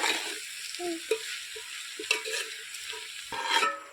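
Onion frying in a pan for a home-style chicken curry, with garlic and ginger added, gives a close hiss broken by repeated spoon scrapes and bumps as it is stirred.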